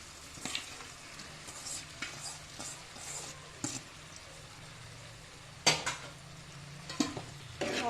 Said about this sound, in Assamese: এতিয়া মই দিম ইয়াত বইল কৰি থোৱা পাস্তা।